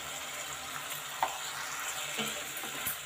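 Tomatoes cooking down in a pan while being gently pressed and mashed, a soft low sizzle with a few faint scrapes and taps, quiet and close, no speech.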